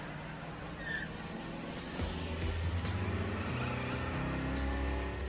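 A self-driving car speeds out of control in circles, its engine droning steadily and climbing in pitch as it accelerates, loud and close with no voices over it.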